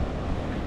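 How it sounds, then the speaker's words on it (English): Sea waves wash at a beach bay beside a van parked for the night, heard as a steady broadband rush with wind buffeting the microphone, no voices. "You can probably hear the waves now"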